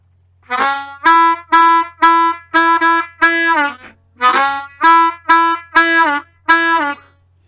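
A solo blues harmonica plays the first four bars of chorus two of a song: two strings of short, punchy reedy notes with a brief break between, loud and close over a faint steady hum.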